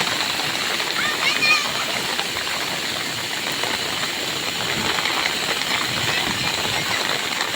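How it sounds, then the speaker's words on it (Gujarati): Heavy monsoon rain pouring down in Deodar, Banaskantha, a dense, continuous close wash of water splashing on surfaces that stays loud and steady throughout. "અત્યારે વરસાદ બનાસકાંઠામાં ભારે વરસાદ છે"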